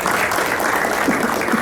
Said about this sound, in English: Please welcome him with your round of applause.